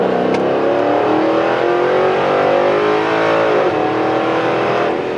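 A 2013 Ford Mustang GT Track Pack engine roars steadily at high revs, loud and close, pitch climbing as it pulls hard, with a brief shift dip near the end.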